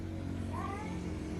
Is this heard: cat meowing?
yes